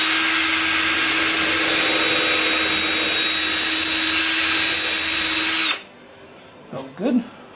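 A power drill bores a hole for N scale model railway track, a loud steady whine running for about six seconds before cutting off, followed by brief faint handling noises.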